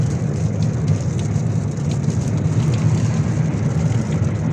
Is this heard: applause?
no